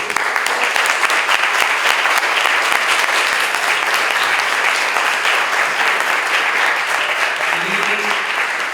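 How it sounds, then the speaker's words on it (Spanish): Audience applauding at a university event at the Centro Universitario de los Lagos, a steady, dense wash of clapping from a full room, loud and continuous for the whole stretch without a break. "un fuerte aplauso, por favor"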